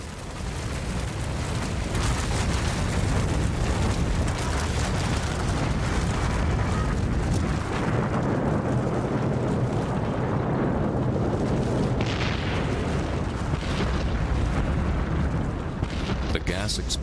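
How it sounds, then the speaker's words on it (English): Deep rumbling booms and roaring bursts of a volcanic eruption, loud and continuous, with a churning low roar swelling and easing over time. "Explosions smash the magma into thousands of lava bombs"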